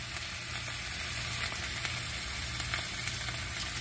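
A beef short rib burger patty sizzles hard on a hot grill, a dense, continuous, close-up crackling hiss with slight flickers throughout and no voices.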